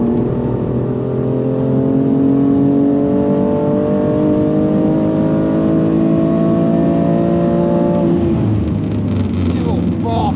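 A stock BMW M2 Competition's S55 engine revs and pulls hard from inside the car, a steady rising drone that drops off near the end, with speech over it.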